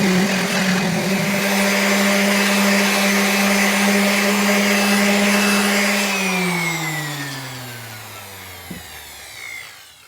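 A power sander works over a wooden lamp base, a loud, steady whine with a grinding hiss that holds for several seconds, then winds down in pitch as the motor spins to a stop, ending with a faint knock.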